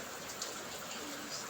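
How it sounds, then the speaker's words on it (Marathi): Light drizzling rain falls outdoors in a quiet Konkan setting, a soft, steady hiss that stays faint and even throughout with no voices. "बाहेर सगळीकडे शांतता आणि हा रिमझिमणारा पाऊस"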